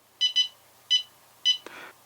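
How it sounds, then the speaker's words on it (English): Several short electronic beeps from a DroneKeeper Micro FPV drone locator, two in quick succession then two more spaced apart, followed by a brief click and soft rustle. "it gave 2 beeps at the start"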